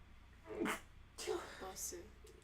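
A person sneezes during a movie night, with a sharp burst near the start followed by further short bursts and voices talking around it.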